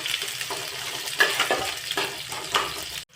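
Chopped onions frying in hot oil in a pan, a continuous crackling sizzle with periodic scraping and stirring strokes, close and fairly loud, cutting off abruptly at the end.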